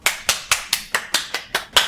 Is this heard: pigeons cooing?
no